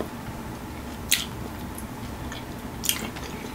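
Hot Cheetos chicken eaten with Flamin' Hot Doritos, with two crisp, close bites about two seconds apart, each followed by soft, wet chewing.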